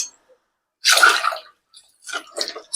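Two short splashy gushes of water poured into a pot of vegetables, close and fairly loud with silence between pours, no talking.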